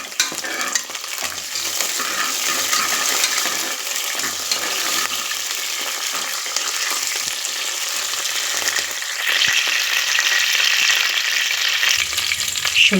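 Ginger, garlic, green chilli and curry leaves fry in a pan for fish head curry, a continuous close sizzle with frequent stirring clatter and no voices.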